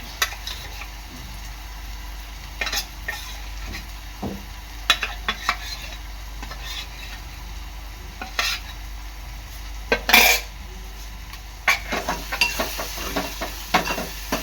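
Koli-style masala with turmeric cooks in oil in a pan, giving a soft, steady sizzle broken by scattered scrapes and clinks of a spoon stirring against the pan.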